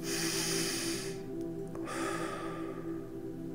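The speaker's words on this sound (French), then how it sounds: "Alors, une respiration." One slow, deep breath, a long airy inhale and then a softer exhale, heard close up with no speech.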